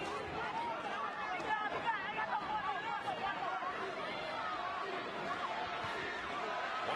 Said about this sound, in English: Once again, this crowd showing and giving their opinion on who they are rooting for